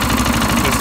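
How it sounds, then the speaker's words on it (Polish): Petrol lawn mower engine converted into a generator, with a carburettor fault leaking fuel, runs steadily and close by, a continuous rough droning hum with fine pulsing and no voices. "Udało nam się uruchomić kosiareczkę"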